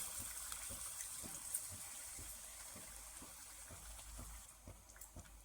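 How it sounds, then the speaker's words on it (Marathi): A faint, steady stream of water runs into a pot of crabs, a soft continuous gush with light splashing, quiet and close. "आता यात आपण पाणी घालून घेऊ"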